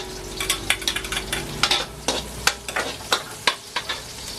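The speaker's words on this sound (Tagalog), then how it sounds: "gigisin na natin ating bawang at sibuyas" Garlic and onion sizzle in a pan while a utensil stirs them in quick repeated scraping strokes, each stroke a sharp close clatter over a steady low frying hiss, no voices.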